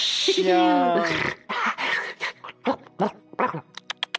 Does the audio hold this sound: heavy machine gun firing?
no